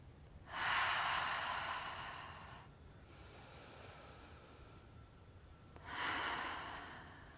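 Deep, slow breaths during a yoga core workout, with three long airy swells of inhaling and exhaling, close and fairly loud, separated by quieter breathing.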